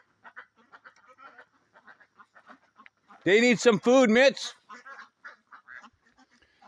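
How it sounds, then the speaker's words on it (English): Loud, nasal duck quacks burst out in a quick cluster close by, while a person talks softly before and after. "there's a lot of my new ducks"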